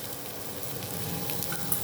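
Raw mango pieces fry in oil with salt and turmeric, producing a steady, dense sizzle that stays even throughout, close and moderately loud with no voices.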